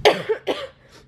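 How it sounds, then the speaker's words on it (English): A woman coughs two or three times in quick close bursts, followed by a faint trailing breath. "I have like this cough."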